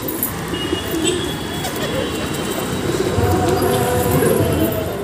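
Pigeons coo in a loft amid a continuous busy background rumble, their low calls blending into steady ambient noise at moderate loudness.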